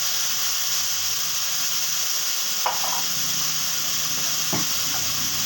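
Hot green chillies frying in oil for a pointed gourd dish, a steady, even, close sizzle and hiss with two faint clinks from a spoon and no voices.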